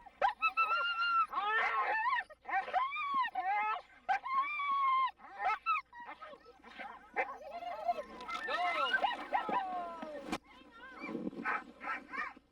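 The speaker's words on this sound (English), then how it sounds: "while the dogs, well, the dogs just wanted to run." Sled dogs at the starting gate of a dog race in Tanana bark, yip, whine and howl excitedly in overlapping bursts, close and loud, with a brief sharp bang near the end.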